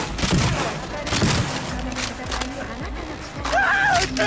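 Rapid explosive blasts from the Chong, an explosive shotgun variant firing homing multi-missiles in a first-person shooter game, crack and boom in quick bursts with a rising whine near the end.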